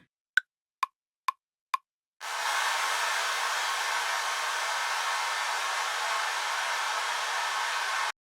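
Four evenly spaced short ticks from an Ableton session give way to a sustained, even wash of broadband noise made with a frozen reverb tail, holding steady and loud before cutting off abruptly.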